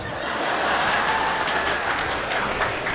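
Studio audience on a Tamil television debate show breaks into sustained applause, a dense, steady wash of clapping at close range that runs for the whole stretch, with a few chuckles mixed in.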